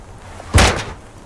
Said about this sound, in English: I gotta keep the door open.